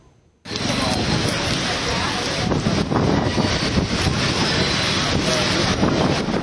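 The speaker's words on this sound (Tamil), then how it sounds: "சென்னையின் பல்வேறு பகுதிகளில் கனமழை கொட்டி தீர்த்தது" Heavy rain pouring down in Chennai, a dense, steady roar that begins abruptly after a brief quiet moment and continues loud and unbroken, with gusty wind noise mixed in.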